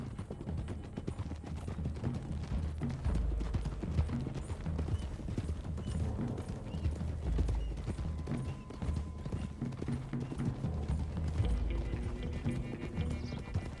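Several horses gallop in the Red Dead Redemption 2 video game, a steady rush of clip-clopping hooves with an occasional whinny, continuous and fairly loud throughout with no voices.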